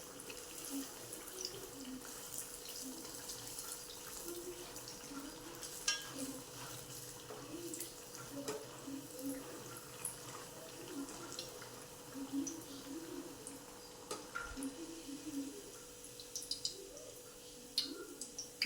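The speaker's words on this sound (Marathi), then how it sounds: "खूप सुंदर पद्धतीने आपल्या ह्या पुऱ्या तळल्या जात आहे" Puris deep-fry in hot oil with a faint, steady sizzle and soft bubbling, broken by occasional light clinks and stirring, all at low volume.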